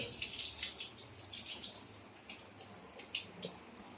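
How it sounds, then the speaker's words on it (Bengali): Gobindobhog rice being rinsed under a running tap, faint trickling and splashing water with irregular drips and small bursts, quiet and close, no talk. "গোবিন্দভোগের চাল একটু ধুয়ে নিচ্ছি ভালো করে"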